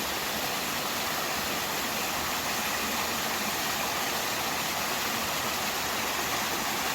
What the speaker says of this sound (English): As far as the eye can see, there's water coming down.